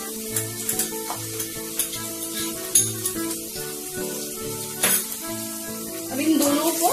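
Finely chopped ginger, for Schezwan sauce, sizzles and gets stirred in hot oil with a steady crackle, and tonal background music plays throughout.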